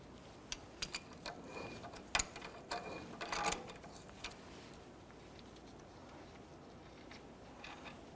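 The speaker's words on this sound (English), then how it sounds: "I'm just using a pair of adjustable pliers here to go ahead and spin this off." Adjustable pliers spin a spindle nut off a 1993-1997 Ford Ranger front hub, giving faint metallic ticks and clicks scattered over the first few seconds before a quiet stretch.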